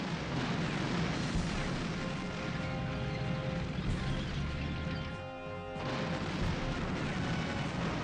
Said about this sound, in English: Finally the artillery fires its volley.